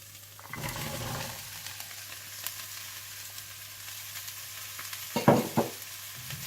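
Pumpkin sautéing in a pan for pumpkin soup: a soft continuous sizzle with a stir near the start and a couple of louder scraping stirs toward the end, no talk.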